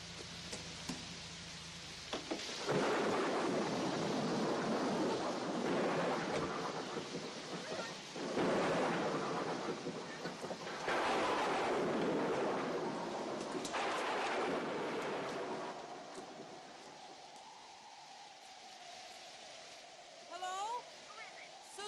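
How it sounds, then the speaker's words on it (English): Heavy rain pours with rolling rumbles of thunder, a loud, dense wash that swells in waves and then eases toward the end. "Look, it's really raining hard."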